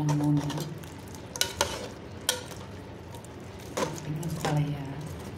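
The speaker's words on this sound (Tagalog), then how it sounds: "Haluin lang muna." Bitter melon is stirred through an atchara pickle mixture, giving soft wet scraping and squishing with occasional utensil clicks over a faint sizzle, close and fairly quiet.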